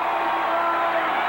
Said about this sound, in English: 9-9, and the crowd is going crazy